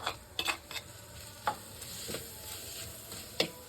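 Tomatoes and onions sautéing in a pan, a low steady sizzle broken by several sharp spoon stirs and scrapes against the pan.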